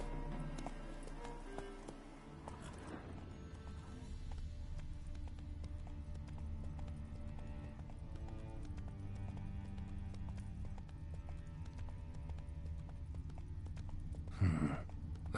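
Roach the horse from The Witcher 3 clip-clops steadily in a continuous hoof rhythm under a low game ambience and music, with a brief snort or breath near the end.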